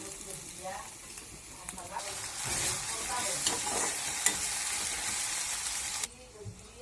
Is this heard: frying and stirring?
yes